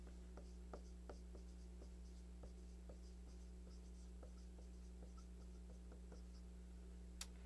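Pen or marker writing notes during a carbohydrate metabolism lecture, faint scratchy strokes and light taps in a quiet room over a steady low electrical hum, with no talking.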